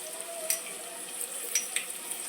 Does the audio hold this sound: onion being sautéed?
yes